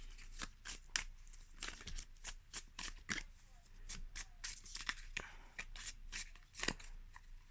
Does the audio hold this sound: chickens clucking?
no